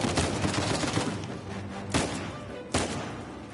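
Gunfire in Uncharted 4, played on hard difficulty, with a steady rattle of rapid shots and louder close blasts standing out near the end.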